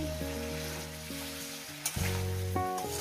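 Spice masala sautéing in a pan for a vegetable and laylon tika fish curry, a steady sizzle lying underneath louder tonal background music throughout.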